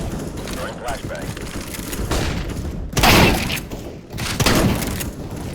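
Flashbang grenades thrown in CS:GO on a LAN office map with bots, giving several thudding bursts and pops in quick succession against busy game noise and radio-style voice callouts.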